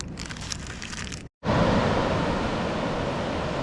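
Small, clean, consistent waves break steadily on a surfing beach on the Jersey coast, a continuous broadband wash of surf with wind, broken by one brief dropout before the roar resumes loud and close.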